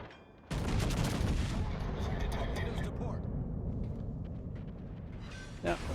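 Naval gunfire from the Slava battleship in World of Warships: a sudden loud booming salvo that rumbles and slowly decays, followed by a short sharp burst near the end.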